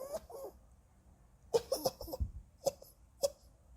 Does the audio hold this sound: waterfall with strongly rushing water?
no